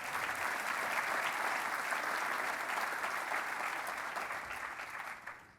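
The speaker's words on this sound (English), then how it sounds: "go ahead and give some applause." Sustained audience applause fills a keynote luncheon hall, dense and steady throughout before tapering slightly at the end, with no talking over it.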